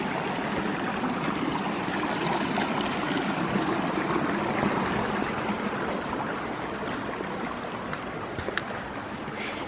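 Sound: stream being crossed on a hiking trail

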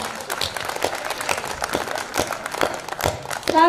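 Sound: audience applause

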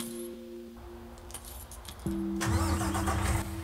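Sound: truck engine starting in a farming video game

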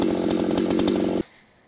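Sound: chainsaw cutting through wood

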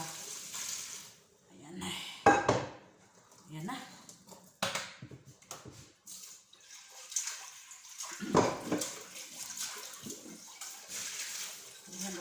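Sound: water draining from boiled macaroni in a strainer

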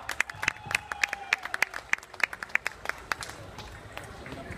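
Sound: crowd applause at Diwali mela stage

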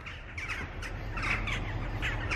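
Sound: jackdaws calling

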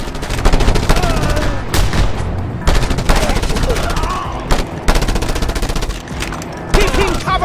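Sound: cover gunfire in video game Just Cause 2

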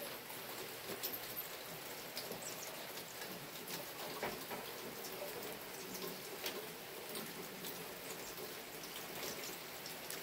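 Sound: rain falling

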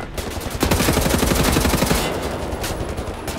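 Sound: gunfire in a video game

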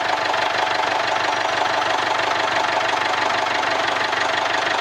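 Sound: Jaguar F-Pace engine starting and idling

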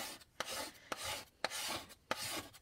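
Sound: paste scraper scraping chalk paste off a frame

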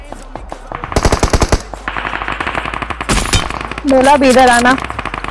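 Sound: gunfire in video game BGMI

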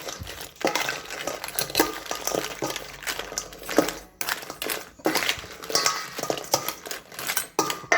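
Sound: stirring crab salad dressing in a bowl

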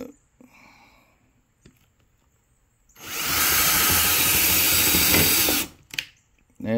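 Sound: Hart power drill drilling

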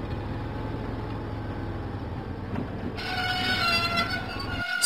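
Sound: Diesel engine train rolling along track in Thomas & Friends video game

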